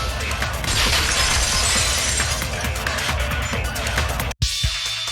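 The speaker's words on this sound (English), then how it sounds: "the girl heard the sound of the window shattering" Crashing glass-breaking sound effect from the Danganronpa 2 video game, a dense burst of shattering and tinkling fragments that fills most of the clip before a brief cut to silence and a softer tail.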